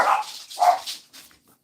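Dogs bark in a short, close sequence: two sharp barks followed by a softer third, with quiet gaps between them and no talking.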